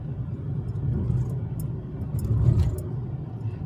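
A car rolling along a quiet country road near Doerun, Georgia, heard from inside as a steady low rumble of engine and tires, moderately loud and swelling slightly, with no talking.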